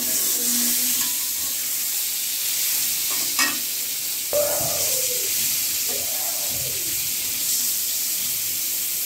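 Eggs sizzling in a frying pan, a constant hissing fry that runs throughout, with a few brief scrapes of stirring and birds cooing faintly in the background.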